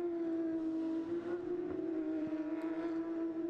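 Several Porsche GT3 Cup race cars with flat-six engines drone steadily at Road America in a 2018 Cup Challenge USA race, a sustained loud engine tone with slight pitch shifts and no speech.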